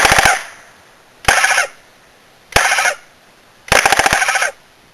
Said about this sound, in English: see if the gun will fire